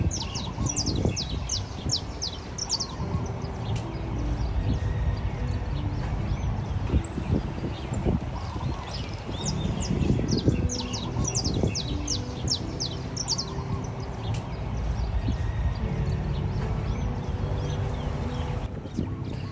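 Small birds chirp and tweet in bursts at a small harbor at Haleiwa, Oahu, over a steady outdoor background with low rumbling and occasional knocks.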